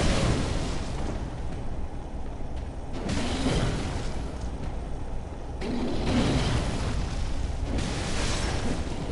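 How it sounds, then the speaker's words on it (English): Enemy fire attack in the game Bloodborne: a sustained, roaring whoosh of flames with swelling bursts, loud and dense throughout, no voices. "this dude shoots fire"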